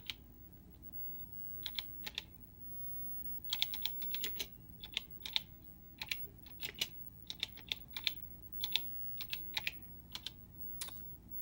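Keys clatter on a vintage Tandy CoCo computer keyboard in quick, uneven bursts of sharp clicks, close and fairly quiet over a low background hum.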